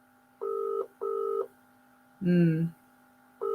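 Touch-tone telephone keypad dialing a call, a few evenly spaced steady dual-tone beeps over a low mains hum, with a brief burst of a voice between them.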